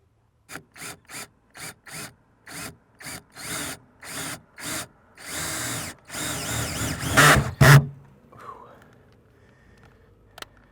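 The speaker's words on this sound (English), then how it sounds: "be very careful when drilling through the back wall of your cab" A power drill runs in a series of short bursts, then a longer stretch of grinding, fairly close, before quieting down, as it bores through the back wall of a truck cab.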